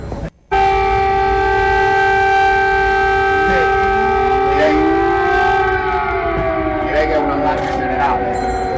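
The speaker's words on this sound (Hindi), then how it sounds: "कीव में खतरे का सायरन बज उठा है।" An air raid warning siren wails over Kyiv in steady sustained tones, loud and continuous after a brief cut at the start, with faint gliding pitch bends from further sirens.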